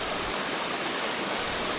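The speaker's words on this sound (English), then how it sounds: "This river runs almost in front of the hotel" A river runs close by near a hotel in Ortisei in the Val Gardena of the Dolomites. It makes a steady, loud broadband rush of water that fills the scene evenly, with no voices.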